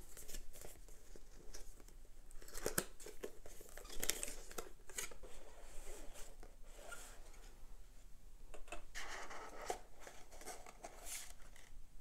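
Cardboard packaging of Sony WI-SP500 sport earphones being opened, with a series of scattered tearing, crinkling and rustling bursts at close range, fairly quiet and with no talking.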